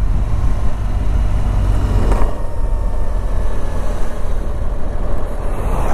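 A 2018 BMW R1200GS Adventure motorcycle with a quick shifter is ridden, giving a loud, steady engine drone with wind rush and a brief change in tone about two seconds in.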